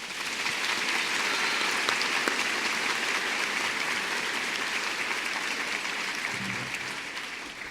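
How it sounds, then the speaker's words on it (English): An audience at a school back-to-school event applauds the Wayzata High School student orchestra, a steady wash of clapping held at even strength, slightly distant and thinning toward the end. "If you'd give them a round of applause."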